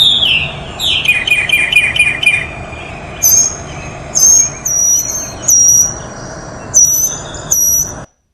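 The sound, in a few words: mockingbird singing in a played video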